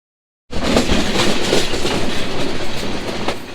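A train to Sylhet rolling steadily along the rails, loud and close, with rhythmic clickety-clack of the wheels over a constant rumble, starting abruptly after a brief silence.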